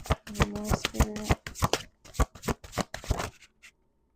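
Tarot cards being shuffled during a card reading, a quiet series of rapid riffling and flapping bursts in an uneven rhythm that fade out near the end, with no talk.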